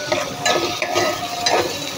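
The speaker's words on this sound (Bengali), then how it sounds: "এখন কিছুক্ষণ কষাবো" Spices with chilli powder and salt stir-fried in a pan, a close sizzle broken by a few rhythmic scraping stirs of a spoon, fairly loud and with no one talking.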